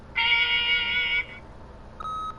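Answering machine beep from The Wolf Among Us video game: a loud, sustained electronic tone lasting about a second, followed after a pause by a shorter, fainter second tone.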